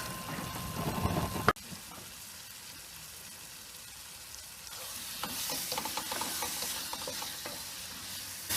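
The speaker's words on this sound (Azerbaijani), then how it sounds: "Baxın, taxta qaşıqla belə qarışırıq." Thick ajika is stirred in a pan with a wooden spoon, giving soft repeated scraping and bubbling sizzle, a sharp clack early on, then quieter wet stirring.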